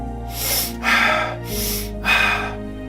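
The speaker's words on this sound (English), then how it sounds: "The repetitive breathing more quickly and deeply, this kind of thing," A person demonstrates rapid, deep breathing: four loud, close breaths alternate between inhaling and exhaling in a quick rhythm over a faint low hum.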